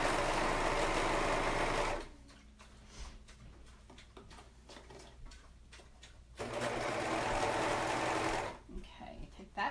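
Sewing machine stitching fabric for a maxi skirt, humming in two close, steady runs separated by a pause filled with quiet handling noises and a voice talking.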